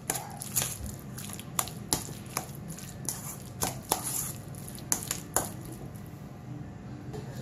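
Pepper cream sandwich filling is stirred in a bowl, giving soft wet squelches and light clinks of the utensil in an irregular rhythm, close and fairly quiet.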